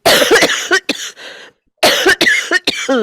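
Several sharp, loud coughs in two bursts separated by a brief silence, close to the listener.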